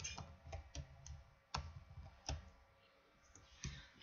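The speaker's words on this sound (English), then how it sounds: "I'm actually gonna type it in on my Spotify." Typing a search into Spotify on a computer keyboard: faint, close key clicks tapped in an irregular sequence, single presses and small clusters separated by short pauses.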